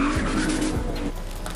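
A turbocharged car drifts with its tires sliding and squealing, a continuous loud screech over a roaring engine, with no talking.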